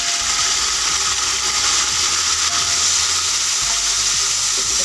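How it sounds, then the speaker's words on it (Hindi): Tomatoes drop into browned onions frying for junglee pulao, producing a loud, dense, continuous sizzle and hiss close by with faint stirring scrapes underneath. "अब इसमें हम टमाटर डाल रहे हैं"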